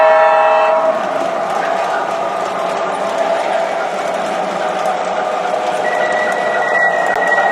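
Model O gauge trains under MTH DCC automatic control run on a layout track, a continuous loud rolling rumble with whistle-like tones at the start and a sustained tone in the final seconds.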